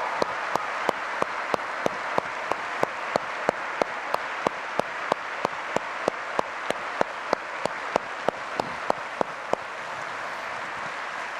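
Audience applause for special guests during a general session at an annual conference; a roomful of people clapping in a steady, sustained wash, with one sharp nearby clap standing out in a regular rhythm throughout.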